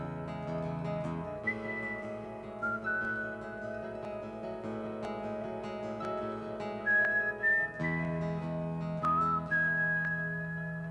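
Whistled melody imitating a hummingbird's song, a clear solo line of sliding and held notes with some higher trills, played over soft background music.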